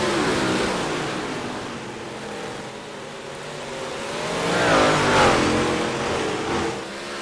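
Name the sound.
big block modified race cars racing at Oswego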